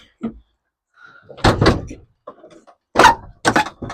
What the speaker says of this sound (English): Let's close that door a second.